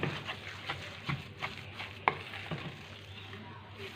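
A spoon stirs a thick mixture of egg, butter, coconut and cocoa in a bowl for chocolate coconut bars, with soft rhythmic scrapes and taps close up and no talking.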